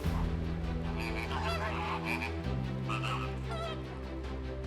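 A dense flock of flamingos honks and calls continuously at Lake Nakuru, Kenya, a loud goose-like chorus over a steady low drone, with no voices.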